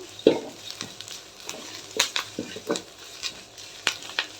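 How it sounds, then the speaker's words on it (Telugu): Curry leaves crackle and sizzle as they dry-fry in a pan for a spicy curry-leaf powder, with scattered sharp pops and stirring scrapes over a soft steady hiss, close and moderately quiet with no voices. "తడి ఆరుతూ ఉంటే ఆకులంతా కొంచెం బాగా పలపలా వస్తాయి కదా సౌండ్ వస్తుంది కదా"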